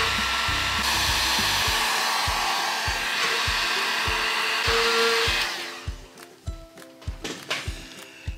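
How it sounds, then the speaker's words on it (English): A heat gun shrinks heat shrink tubing on a floor heating wire, a loud steady blowing roar with faint rhythmic clicks that cuts off after about five seconds, leaving quiet handling noises. "When you're using the heat gun, it's very important to get both sides so it completely shrinks."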